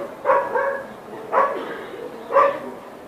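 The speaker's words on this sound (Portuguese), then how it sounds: "ai, que cachorro chato." A pet dog barks three times in a steady rhythm, each bark clear and fairly close against quiet room noise.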